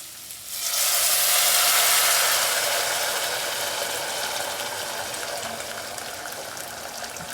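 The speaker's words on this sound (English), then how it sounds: "I'm gonna get my kettle with the 2 cups of boiling water." Boiling water pours from a kettle over rice in a steady hissing stream, loud and close, with a bubbling, sizzling texture that gradually eases off.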